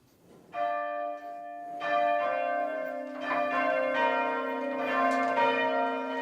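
Dunblane Cathedral church bells ring on Armistice Day in overlapping, layered peals, the tones building and sustaining with a resonant ring, heard from some distance.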